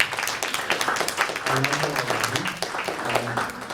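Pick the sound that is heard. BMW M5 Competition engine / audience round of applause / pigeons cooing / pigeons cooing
audience round of applause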